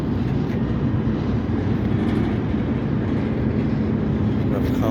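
An NS GP switcher locomotive leads a CSX freight train past on the Delair line, producing a continuous, loud, close rumble of wheels and cars with a steady roar throughout.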